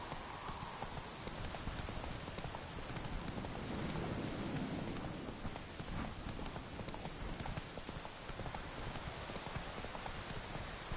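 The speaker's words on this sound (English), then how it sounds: "Run, Roach" A horse gallops at speed in The Witcher 3 video game, its rapid hoofbeats pounding steadily through the whole stretch under a dense wash of falling rain and faint rumbles.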